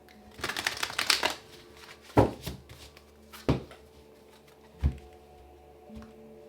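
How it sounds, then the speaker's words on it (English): Tarot cards being shuffled close by in several short riffling bursts, the first longest, followed by three quick separate flicks and a faint final one. "Last shuffle."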